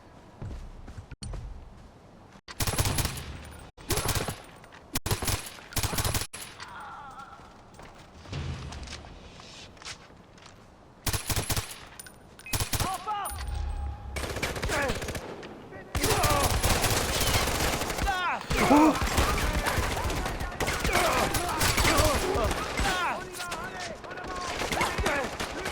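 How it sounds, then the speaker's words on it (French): Bursts of turret machine-gun fire in the video game Far Cry 4 come in short volleys, then a long sustained stretch of loud rattling fire, with explosions and game effects between them. "Je vais prendre la tourelle."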